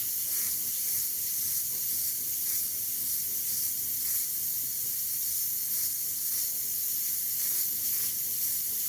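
An airbrush spray gun sprays paint heavily onto a canvas for a painting of an erupting volcano, giving a steady, even hiss that holds for several seconds with no talking.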